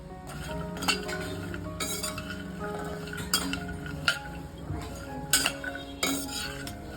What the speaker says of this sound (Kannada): ಈಗ ಒಂದು ಇನ್ನೂರು ಅಷ್ಟು ವಾಲ್ನಟ್ನ ಹಾಕ್ತಾ ಇದ್ದೀನಿ ಇದನ್ನು ಕೂಡ ನಾನು ಫ್ರೈ ಮಾಡ್ಕೋತಾ ಇದ್ದೀನಿ